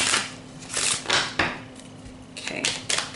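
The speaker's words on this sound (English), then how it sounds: "I'm just gonna get a good shuffle in for you first." A tarot deck being shuffled by hand, heard as several quick crisp papery riffles and bursts close to the listener, with soft pauses between them and no talking.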